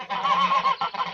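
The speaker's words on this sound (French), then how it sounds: "Alors voilà, ici j'ai encore une oie qui couve." A goose on a small home poultry farm honks loudly and close, a run of nasal calls in steady succession with a brief pause before a final pair.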